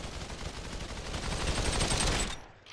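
Rapid automatic fire from a UMP submachine gun shot at a target in the VR game Population One, a dense, continuous stream of close gunshots that builds slightly louder and then stops abruptly.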